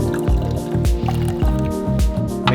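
Blended ginger and turmeric poured into boiling golden milk in a pot makes repeated wet glugs and splashes, close and fairly loud in irregular bursts.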